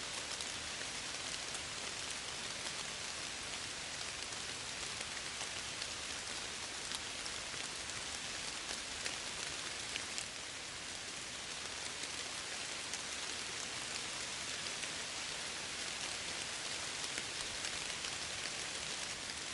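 Steady, dense rainfall with a constant hiss and patter, unbroken and even throughout, with no voices.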